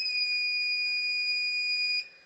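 Alarm from an LCYMW 2000 watt pure sine wave power inverter showing an F13 fault code, a loud continuous high-pitched electronic tone that holds steadily, then cuts off abruptly.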